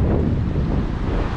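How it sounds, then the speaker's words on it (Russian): Strong wind buffets the microphone in a continuous low rumble, loud and close, with no voices, while out jet skiing in Tampa, Florida. "Не ожидал, конечно, что так будет ветрено сегодня"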